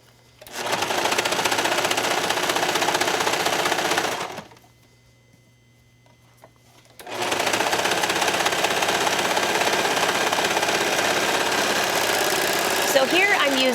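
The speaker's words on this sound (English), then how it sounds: "So here I'm using a 4-thread overlock stitch." A serger sews a 4-thread overlock stitch in contrasting threads on tank top fabric, running loud and steady for about four seconds, stopping briefly, then whirring on continuously again.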